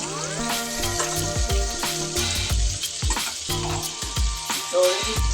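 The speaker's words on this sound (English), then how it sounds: "And I'm gonna add the prawns now." Prawns fry in a curry pan with a steady, close sizzle and occasional stirring scrapes running throughout.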